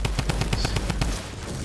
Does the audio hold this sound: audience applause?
no